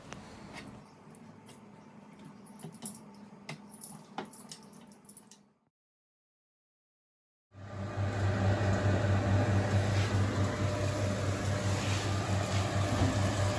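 An oven bakes grill chicken. A busy, crackling stretch gives way to a short silence, then a loud, steady low hum of the running oven that continues to the end.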